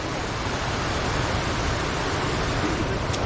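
A river in Kasol, Himachal Pradesh, rushes nearby, a steady, dense roar of broadband water noise with no breaks, heard up close and alone.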